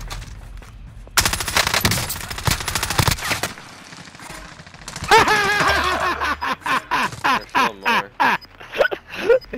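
Rapid bursts of automatic gunfire crackle loudly through a video game firefight, with dense volleys giving way to sharper, spaced single shots near the end, while players talk over the action.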